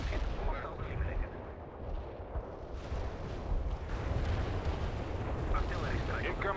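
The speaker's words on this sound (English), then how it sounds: "Artillery strike." Artillery barrage strikes in the war strategy game World in Conflict, rumbling dense explosions and booming impacts rolling continuously, with a voice talking over the battle noise.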